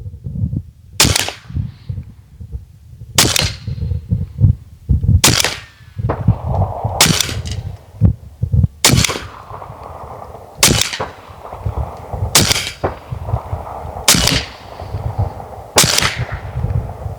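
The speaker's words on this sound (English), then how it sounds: "That was an entire magazine of skirted projectiles from a stick style" An AEA SF .30 caliber airgun empties a full stick-style magazine of skirted pellets, giving about eight sharp, loud reports spaced roughly two seconds apart, with mechanical clatter and a faint hiss between shots.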